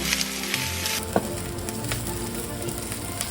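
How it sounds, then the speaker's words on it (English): Chopped garlic and the white part of an onion stir-fry in a hot wok for mapo tofu, with a steady, bright sizzle and a few spatula knocks as the ingredients are tossed. "Add it to the wok and stir for a minute."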